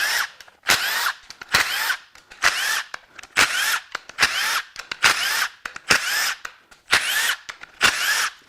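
A power tool works in repeated short bursts, roughly ten in steady rhythm, as the valve cover comes off the right-hand cylinder head of a recalled GM L87 6.2L engine during a teardown; close and loud, with no talk.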